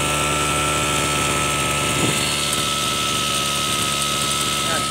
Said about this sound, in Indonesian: Dia ada bunyi turbo kan?